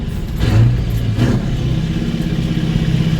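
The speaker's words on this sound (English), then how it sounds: "I use the clutch, but I'm still rev matching the engine just as I would in a normal vehicle." A CAT-engined truck with a two-speed axle revs up and settles as the driver rev-matches through clutched gear shifts, a steady near engine drone with a rise in the first second.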